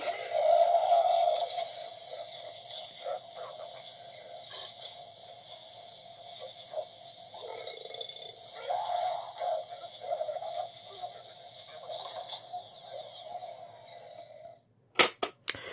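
A Ghostbusters Spirit toy ghost trap sound effect plays: sustained buzzing, warbling tones with crackly bursts for about fifteen seconds, then a couple of sharp clicks at the end.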